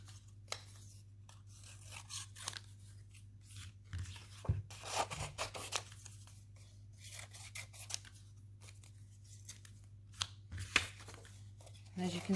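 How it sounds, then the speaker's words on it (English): Scissors snip through strips of paper grass in quiet, irregular cuts, with soft rustling and handling of the paper in between. "I'm just going to cut a few more out"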